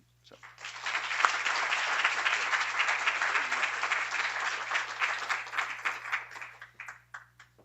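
Audience applause welcoming a lecturer to the stage, a dense sustained wave of clapping that rises quickly, holds steady for several seconds, then thins into scattered claps before stopping.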